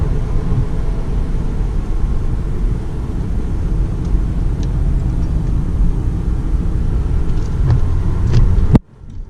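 A 2009 Lexus IS250 driving around a corner, its engine and road noise a steady low rumble from inside the car, cutting off abruptly near the end.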